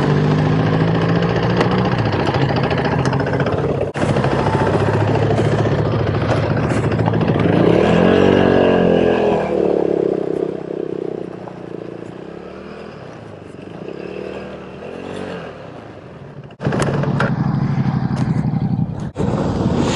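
A motorcycle engine idles steadily and loud up close for the whole stretch, its pitch dipping briefly midway before settling back.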